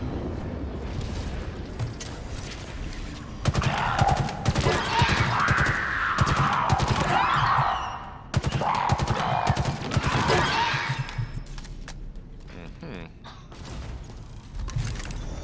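Human weapon firing in the video game Halo Infinite, bursts of rapid automatic gunfire in two main volleys with mechanical clicks and clatter in between, loud and close.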